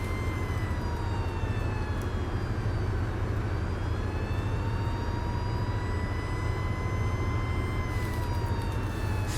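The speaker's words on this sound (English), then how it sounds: "Infinite long siren. That's all it is right now." A long, unbroken emergency siren wails steadily inside the OMSI 2 bus simulator on a Cayuga USA route, its tone holding over a constant low engine drone with no pauses.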